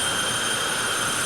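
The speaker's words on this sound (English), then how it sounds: "we are firing Leland Blee's jet dragster" Jet dragster's turbine engine spooling up, a loud sustained whine with a high steady tone over broad roaring rush, close and continuous.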